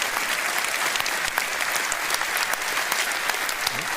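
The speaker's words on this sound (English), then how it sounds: "Give them a round of applause for doing such a great job." An audience at a political rally in Hull applauds, a dense, continuous clapping that fills the hall and holds steady throughout.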